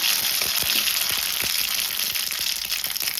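Tempering seeds and dried red chillies fry in hot oil, giving a loud, steady sizzle with scattered sharp crackles and pops throughout.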